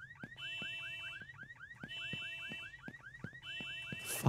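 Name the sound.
alarm system going off in a video game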